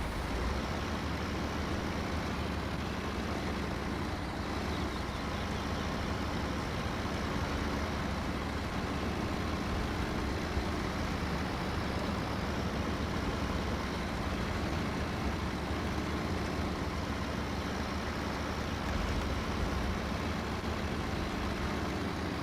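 Western Star truck in SnowRunner hauling a trailer, its engine a steady, continuous low drone that holds at an even level throughout with no voices.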